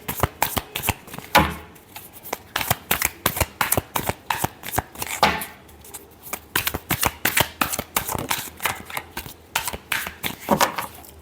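A deck of tarot cards is shuffled by hand in quick riffling bursts, a dense run of crisp clicks and flutters with short pauses between rounds, close and clear.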